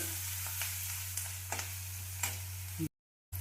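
Onions sizzle steadily in a pan for a black-eyed bean curry, a continuous frying hiss with occasional faint stirring clicks and a low electrical hum, ending in a brief dropout.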